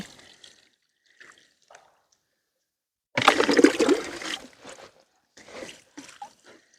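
A short burst of water splashing and trickling, close and fairly loud, then fading into faint drips and light rustling.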